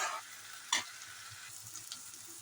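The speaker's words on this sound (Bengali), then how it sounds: "এটা ততক্ষণ ভেজে নেব যতক্ষণ না রসুনের কাঁচা গন্ধটা চলে যায়।" Chopped garlic frying in oil in a pan for spicy chicken kosha, a steady close sizzle with a brief louder stir scrape near the start, continuing alone with no voices.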